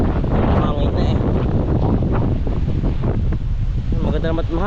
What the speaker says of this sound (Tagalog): Mahangin na eh.